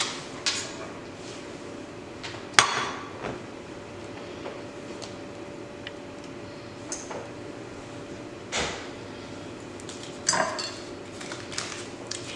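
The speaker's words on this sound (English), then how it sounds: "Now let me get my pan out here" A metal cake pan being pulled out and handled in a kitchen, with scattered clanks and knocks, a sharp clatter early on and several softer bumps spread over a quiet background.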